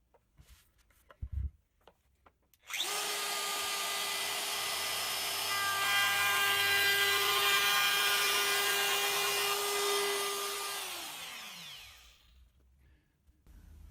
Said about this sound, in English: What I've got in the little trim router again, I've got a 1/4 inch radius round over bit riding on a little ball bearing